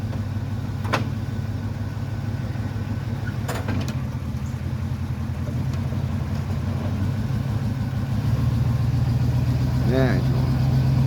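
A Squarebody Chevy truck under restoration, its brakes stuck from sitting around, idles with a steady low rumble throughout, a few clunks and a voice speaking briefly over it.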